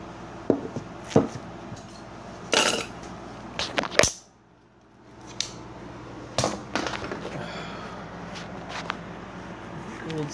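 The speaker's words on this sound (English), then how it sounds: "Gold silverware." Gold metal silverware handled at a table, giving several sharp clinks and rattles in short bursts with quiet gaps between them, close by.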